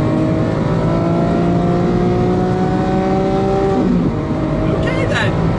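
A 2017 Lamborghini Aventador S accelerates hard toward 8,000 RPM, a loud, rising engine howl heard from inside that climbs steadily for about four seconds before a brief shift dip and renewed roar.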